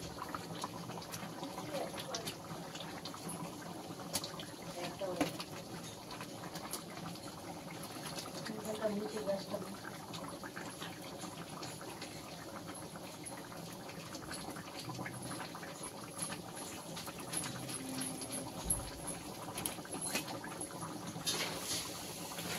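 Pieces of fried fish go into a simmering curry in a pan, giving a soft, steady bubbling and gurgling that stays low and faint throughout, with a voice speaking quietly at moments.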